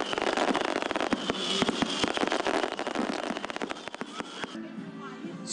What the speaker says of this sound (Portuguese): Os fogos anunciam que vai começar o rodeio.